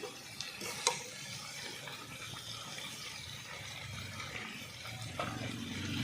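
Turmeric powder, salt and potato pieces are stirred and fried in a pan for a prawn and plantain curry, a faint, continuous sizzle with scraping stir strokes and a small clink near the start.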